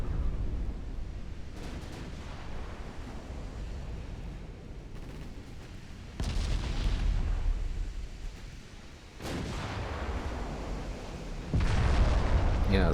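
Naval secondary guns of 6.1- and 7.4-inch calibre firing in Ultimate Admiral Dreadnoughts, a series of loud booming blasts over a continuous low rumble of battle, with no voices.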